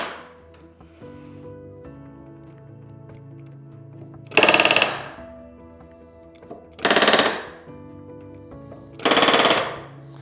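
A pneumatic rivet gun sets rivets on RV-10 aircraft ailerons in three loud, separate bursts of rapid hammering, each lasting about half a second, with a low steady hum in the background between them.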